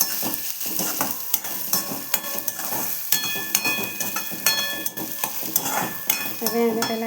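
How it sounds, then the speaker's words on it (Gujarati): Chopped onion dropped into a hot pan of oil for a Kathiyawadi kaju gathiya curry, sizzling and crackling steadily up close while a spoon stirs and scrapes against the pan, with occasional clinks of utensils. "પછી આપણે ડુંગળી છે એ નાખી દઈશું આમાં"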